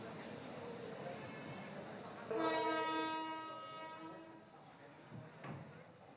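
The intercity Dhumketu Express leaves for Rajshahi at dawn, a long, loud horn blast rising over the low rumble of the departing train while a voice talks.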